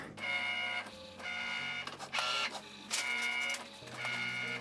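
A Cricut Mini cutting machine with a fine tip blade cuts premium vinyl, giving a close, quiet mechanical whir with repeated short bursts of motor buzzing and carriage movement, like a printer.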